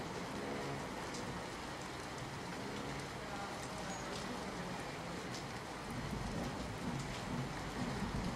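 A heavy downpour over Ahmedabad city makes a dense, steady roaring hiss of rain that keeps going throughout and swells a little louder toward the end.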